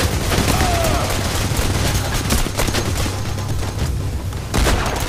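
Heavy continuous gunfire in the video game Payday The Heist, loud overlapping bursts and booms during a shootout on a bridge, with a voice faintly under the barrage.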